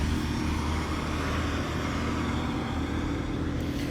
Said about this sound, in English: We'll listen to some semi-trucks driving around.